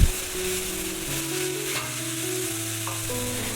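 Bean sprouts stir-fried with spices in a pan give a steady, close sizzle with a sharp clatter at the start, carrying on without speech over a soft background tune.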